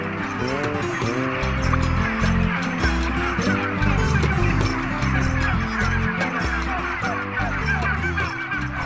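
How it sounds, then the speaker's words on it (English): A flock of broad-breasted white turkeys on a free-range ranch gobbles in a loud, dense, continuous chorus of overlapping calls, with some birds close and others farther off. "This is your broad-breasted white turkey."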